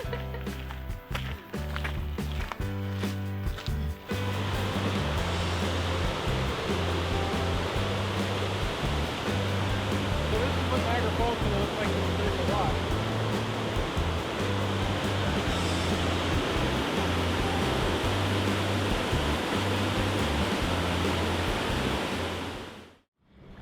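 Rainbow Falls in New Zealand roars as a steady, loud, unbroken rush of falling water, continuous for over twenty seconds with a few clicks at the start before fading out at the end.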